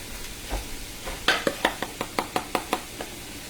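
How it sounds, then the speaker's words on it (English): Diced onions, carrots and celery are stirred in a pot for split pea soup, a spoon tapping and scraping the pot in a quick regular series of knocks over a soft sizzle, close and clear. "Onions, carrots, celery, saute them"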